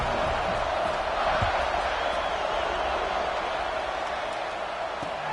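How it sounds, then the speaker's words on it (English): A packed Georgia football stadium crowd roars in a dense, continuous wash of cheering before a kickoff, steady and far-spread with no single voice standing out. "this crowd is feeling themselves after that last drive"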